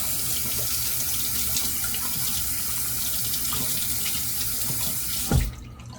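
Water runs steadily from a tap as someone rinses after a shave, a close, constant hiss that ends abruptly with a knock as the flow is shut off.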